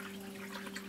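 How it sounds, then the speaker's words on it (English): A siphon in an off-grid, solar-powered aquaponics system sends water gushing into an aquarium, a steady close rushing and splashing with a faint constant hum beneath, no voices. "we have water gushing into the"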